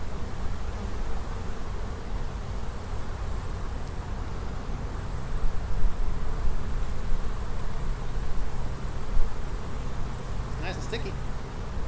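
Honey bees buzzing around a hive box outdoors, a dense steady hum throughout, close and continuous, with a brief sharp click near the end.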